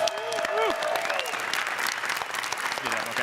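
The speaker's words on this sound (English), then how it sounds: "let's how about give them a round of applause" A conference keynote audience gives a round of applause at a world championship event, clapping spread across a large hall, with a tonal voice and music swelling over the start and speech-like sounds woven through.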